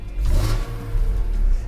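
A warmed-up BMW M3 E46 engine revs in a single close, steady run, its loud metallic growl holding at high pitch and easing briefly near the middle.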